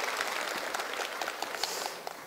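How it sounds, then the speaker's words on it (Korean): Audience applause at a school-violence prevention lecture, a dense wash of clapping from a sizeable crowd, steady and fairly loud, thinning slightly toward the end. "박수 한번 주시기 바랍니다."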